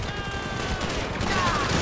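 Fireworks burst in the open-world game GTA 5 during a meteor and storm mod. A fairly faint, continuous crackling fusillade of pops with sizzling whistles sits in the background.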